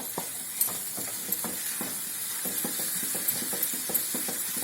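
Mango pieces cooking in oil and salt in a pan make a soft sizzle under repeated rhythmic stirring scrapes and light clicks from a utensil, close and steady, with no speech.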